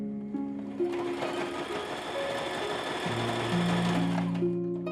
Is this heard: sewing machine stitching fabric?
yes